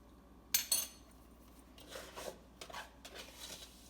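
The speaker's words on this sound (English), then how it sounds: "use your dough scraper to scrape your dough into a ball on the cutting board" A dough scraper scrapes pizza dough into a ball on a cutting board, giving two quick sharp scrapes up close followed by several softer rasping strokes against the board.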